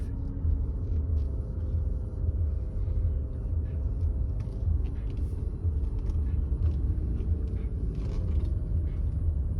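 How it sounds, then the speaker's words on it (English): A bus pulls in on a sunny roadside lot where a 2006 Audi A6 Quattro wagon is parked, giving a steady low engine rumble with traffic noise that holds loud and close throughout. "Watch this bus coming in here."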